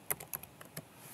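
Quick clicking keystrokes on a computer keyboard while entering a function name into HMI screen configuration software, about half a dozen light taps in an uneven burst, close and fairly soft with no talking.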